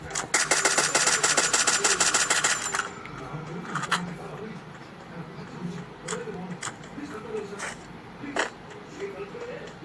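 A generator engine in a video game chugs in a fast, steady rhythm for about three seconds, then drops back beneath talking and scattered game noises.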